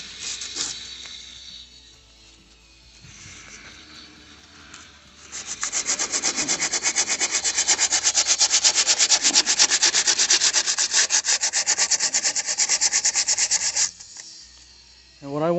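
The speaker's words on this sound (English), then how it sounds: "they start getting a little bit better with the grinding. I'm using an 80 grit for this." A cracked plastic car bumper is sanded with 80-grit abrasive: after a few quieter seconds, a loud, close, continuous rapid rasping runs for about nine seconds, then stops abruptly.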